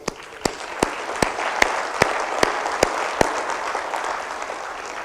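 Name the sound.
applause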